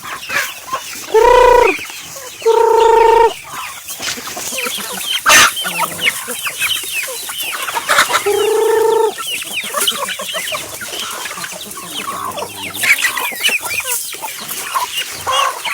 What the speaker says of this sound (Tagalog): ang aming mga manok dito